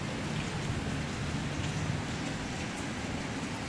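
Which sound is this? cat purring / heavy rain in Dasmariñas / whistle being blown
heavy rain in Dasmariñas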